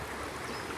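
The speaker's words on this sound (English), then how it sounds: "I'm listening, I'm hearing the water running," A flowing stream runs steadily in a natural spot on the edge of Johannesburg, a constant close wash of water with no voices.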